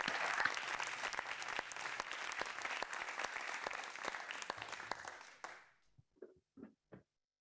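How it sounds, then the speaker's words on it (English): Loud, sustained applause from a sizable crowd at a penetration testing summit keynote rolls on for several seconds, then fades out, leaving a few scattered voices. "Round of applause."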